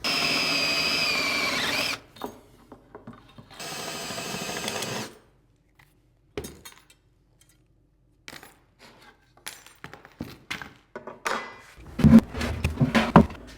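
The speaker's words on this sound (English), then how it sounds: "I'm going to take this over to the drill press and drill those out real quick" A drill press whirs in two sustained bursts drilling out rivets, then stops; clanks, taps and small metal clatters follow as parts are handled nearby.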